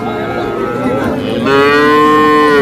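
A Friesian cross heifer calf at a cattle market lets out a long, loud moo that starts midway and holds steady to the end, after a stretch of rougher lowing.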